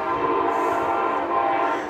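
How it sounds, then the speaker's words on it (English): Amtrak passenger train hauled by a Siemens locomotive rolling past a warehouse, its horn sounding loud and steady over the rumble of the cars throughout. "And there's a train coming."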